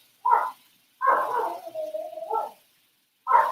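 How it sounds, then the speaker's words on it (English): A pet dog in a home kitchen gives a few short whimpering yelps and a longer drawn-out whine, close by and moderately loud, separated by brief silences. "I'm going to tell my dog to be quiet."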